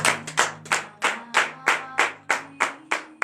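Congregation clapping in unison during a morning prayer, about ten sharp rhythmic claps at a steady beat over a low sustained tone.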